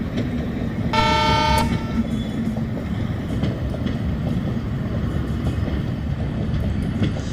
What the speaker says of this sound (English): So right now our train just entering at Charlapalli at platform number 2.